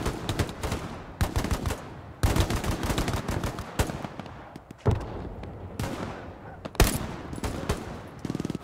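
Bursts of rifle and machine-gun fire crack across a World War II battlefield in Hell Let Loose, repeated sharp shots in irregular clusters, some close and loud, others more distant.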